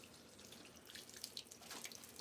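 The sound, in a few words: watering a potted plant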